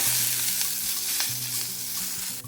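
Moringa leaves sauté in hot oil with a steady, close sizzle and faint stirring scrapes, continuous over a low background hum.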